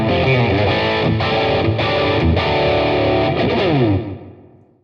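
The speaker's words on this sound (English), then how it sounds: "I can use it again to make it a quicker delay" Distorted electric guitar played through a Fender Champion 100XL amp with a tap-tempo delay set quick, notes repeating in fast echoes at steady loudness, then ringing out and fading in the last second.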